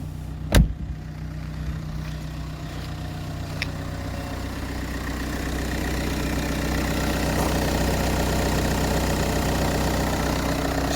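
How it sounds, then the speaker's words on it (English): A minivan camper's engine idles steadily at close range in the cold, a continuous low rumble with a sharp click near the start and a faint tick a few seconds later, no voices over it. "let's just turn off the engine."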